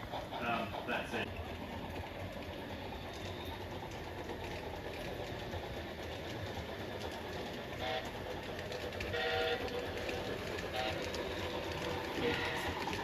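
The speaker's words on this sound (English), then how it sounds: "You can hear the whistle's not doing too well." A train rolls past over a double slip switch with a continuous rumbling, clattering roar, and its faulty, weak-sounding whistle gives a few short, thin toots late in the pass.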